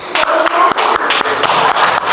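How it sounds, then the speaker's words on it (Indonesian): Audience at a teacher performance assessment in Indonesia claps for the third group, a loud, dense patter of hands with a few sharper taps, running steadily throughout. "tepuk tangan untuk kelompok 3"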